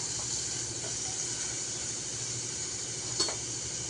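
Chopped vegetables for sweet corn soup sauté in oil with a steady, close sizzling hiss that holds evenly throughout, broken once by a brief utensil knock near the end.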